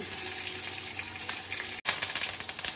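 Mustard seeds, urad dal and onion sizzle in hot oil for a jackfruit palya, a steady close crackling hiss with a brief break near the end before it resumes louder, with no talking.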